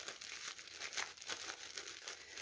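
A small plastic bag crinkles softly and close up while chrysanthemum seed heads are worked inside it to extract the seeds, a quiet run of irregular rustling bursts.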